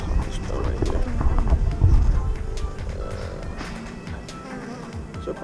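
Honeybees buzzing around an open beehive during a calm inspection, a steady low drone of many insects with background talking and some handling noises.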